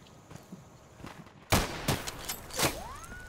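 Gunfire in a shooter video game: a quiet start, then from the middle a burst of several loud, close shots in quick succession with sharp cracks and ringing tails.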